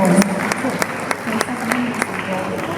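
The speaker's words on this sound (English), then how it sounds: "And round of applause." A conference audience applauds at the end of a panel session: a steady wash of many hands clapping, moderately loud and close, with a few sharper individual claps standing out over about three seconds.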